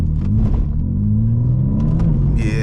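A 2022 BMW M4 Competition pulls hard under acceleration, its engine note rising in a steady, loud low rumble close by, with no talking over it.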